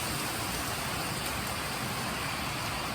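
Steady rain pours outdoors in Alabama, a dense, even hiss of drops hitting the ground at close range, unbroken for the whole stretch with no voices.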